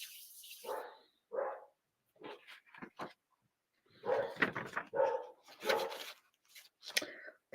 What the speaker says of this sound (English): Kai is barking at something up there.